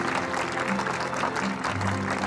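At an awards ceremony, an audience applauds award winners as they are called to the stage, a steady wash of clapping blended with loud background music throughout.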